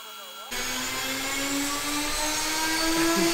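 A CNC router cutting a part for wall racks makes a loud, steady mechanical whine with a sustained high-pitched tone, spinning at speed, starting abruptly after a brief quiet moment.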